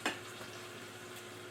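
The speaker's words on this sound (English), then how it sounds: "I'm gonna flip my Salisbury steaks again because they are done" Turkey Salisbury steaks sizzling in a pan as they are flipped: a steady, fairly quiet frying hiss with a brief clatter at the start, no talking.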